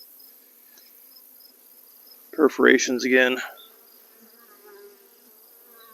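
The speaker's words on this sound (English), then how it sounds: "They're definitely buzzing." Honey bees in an opened hive box give off a faint, steady buzz in the background, briefly covered by someone speaking a short phrase midway.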